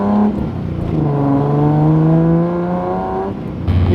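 A Datsun 280Z on brand new tires accelerating hard, its engine note climbing steadily through a gear before a shift, loud and close from inside the car.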